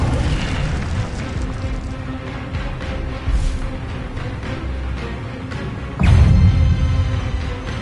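An Incendio fire spell blasts in a Hogwarts wizarding video game, a steady roaring whoosh of flame with a louder burst about six seconds in, heard up close and without speech.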